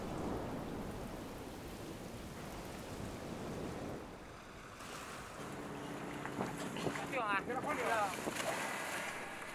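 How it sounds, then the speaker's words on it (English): Steady rain hisses over open sea at night during a fishing operation, with a fishing boat engine droning and some splashing and creaking toward the end. "a sudden night rain adds difficulty to the operation"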